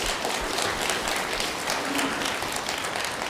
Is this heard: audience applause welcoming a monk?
yes